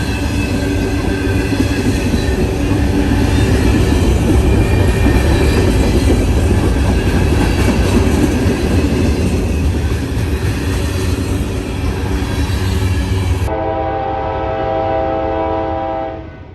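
Norfolk Southern freight train rolling past close by, loud continuous rumble and wheel noise with a sustained horn blast, fading away at the end.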